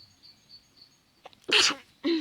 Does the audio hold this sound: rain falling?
no